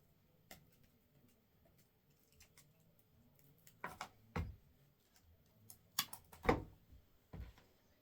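Scissors snipping through material for a Christmas table centrepiece, heard as a handful of sharp, quiet cuts spread unevenly across a near-silent room.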